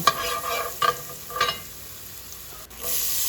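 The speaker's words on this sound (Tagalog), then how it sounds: "ilagay na natin ang sibuyas at ng bawang. Tapos, imekos-mekos na naman yan insan." Onion and garlic fry in a hot pot for sopas, a steady close sizzle under a few scraping stirs of a utensil against the pot, then the sizzle swells louder at the end.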